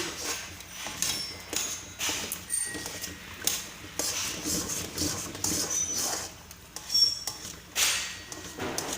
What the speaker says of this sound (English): Keep frying.